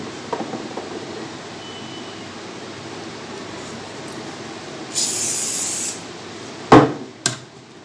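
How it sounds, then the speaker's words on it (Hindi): A hair setting spray can releasing one steady hiss of about a second, close by, followed by a couple of sharp handling knocks. "आपको सेटिंग स्प्रे ले लेना है"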